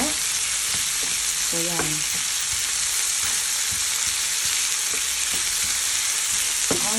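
Pork belly frying in its own rendered fat without added oil until crispy, a steady close dense sizzle throughout with light scraping and a faint voice briefly over it.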